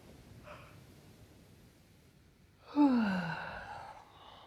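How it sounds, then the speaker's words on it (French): A person takes deep breaths, a faint inhale early on followed by a louder, drawn-out exhale lasting over a second, heard alone in a quiet room. "Je prends des grandes respirations."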